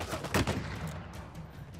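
Rapid gunfire from a weapon in the video game Uncharted 4: A Thief's End, a short sharp burst of shots up front, then a fading tail, with no voice over it.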